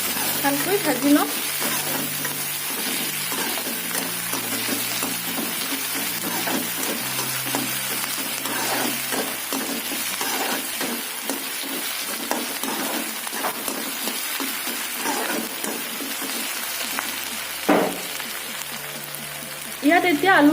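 Chopped onion with ginger and garlic paste frying in oil in a wok, a steady close sizzle with scraping stirs throughout, while a person talks over the cooking.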